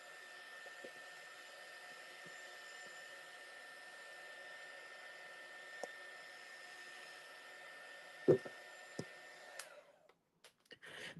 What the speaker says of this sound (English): I'm just going to take the heat gun and give it a blast